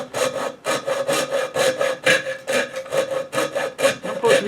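A hand saw cuts through a wooden block for a Pinewood Derby car, with steady back-and-forth rasping strokes about twice per second, loud and close, and no talk.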